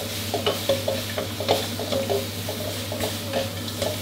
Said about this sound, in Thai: เร่งไฟกลับขึ้นมาได้เลยครับผัดคลุกเคล้าผสมให้เข้ากันดีครับ